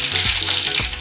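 Mustard seeds sizzle and crackle in hot oil while a spiced potato palya is being cooked, giving a steady, close, loud frying hiss with no talking.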